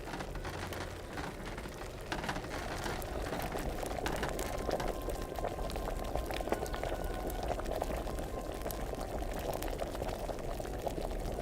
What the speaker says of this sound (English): It was boiling a little bit before the timer started.